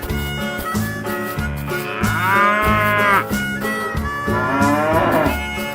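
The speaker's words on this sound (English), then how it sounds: "Cow." A cow moos loudly and close, two drawn-out bellowing calls with a wavering pitch, set against a steady rhythmic background of other farm-animal sounds.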